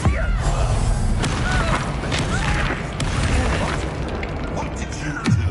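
Fiery spell blasts in a wizard video game, booming and crackling in loud bursts over a dense, continuous wash of game sound, with a voice talking through part of it.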